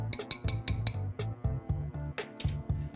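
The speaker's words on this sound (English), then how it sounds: "Just going to give that a little bit of a stir." A utensil clinks and scrapes against a pan while food is stirred, giving a run of short metallic taps and rattles over a low hum, fairly close and steady.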